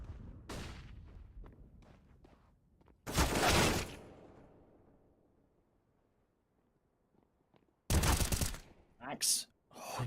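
Gunfire in a competitive Counter-Strike playoff match comes in two loud bursts a few seconds apart, followed by quicker shots, with fainter game noise and commentary between them.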